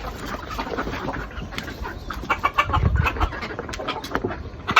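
Chickens on a small poultry farm cluck and chatter in a close, busy jumble of short calls, with soft shuffling and a low thump in the middle.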